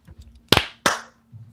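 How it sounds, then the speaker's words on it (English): A small group on a live stream claps in unison, two sharp claps close together with a steady hum in between. "let's clap it up in 3,"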